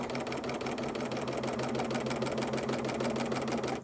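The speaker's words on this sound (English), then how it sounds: "I'm just going to trim the edge off of this fabric" Serger sewing machine running steadily as it trims the raw edge of fabric while stitching around a fabric flower, a close, continuous mechanical whir with fast rhythmic needle clatter for about four seconds, alone without voices.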